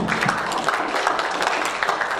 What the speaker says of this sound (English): Round of applause for Kalani.